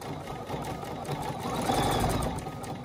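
Sewing machine running steadily during free-motion quilting, a continuous close motor hum with rapid stitching that swells slightly in intensity toward the middle.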